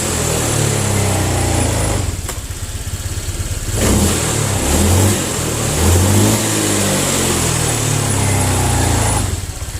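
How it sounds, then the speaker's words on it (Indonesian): Honda Vario scooter with a throttle delay fault, its engine held near and revved repeatedly, the loud whine rising and falling in a few surges over a steady running drone. "Coba perhatikan tangan saya sama suara mesinnya ya."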